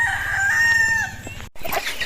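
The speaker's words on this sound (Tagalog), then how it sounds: "So ito naman yung mga manok namin" A rooster crows loudly nearby, its call breaking off abruptly, followed by scattered clucking from chickens.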